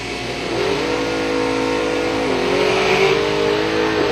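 A 1989 Ford Mustang drag race car accelerates hard down a dragstrip, its engine note climbing in steady rising pitch, loud and close with no talk over it.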